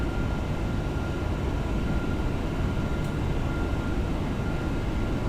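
Steady, uniform drone of a TFDI MD-11 airliner's engines in cruise within a flight simulator game, continuous broadband roar with a faint thin tone riding on top, no talking.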